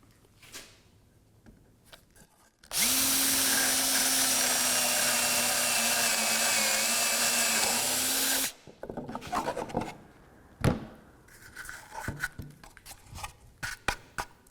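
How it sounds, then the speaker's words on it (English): A power drill whines steadily for several seconds as it bores through wood for a jewelry box, loud and close, followed by scattered handling clatter and small knocks. "now when I drill, I have some support behind it"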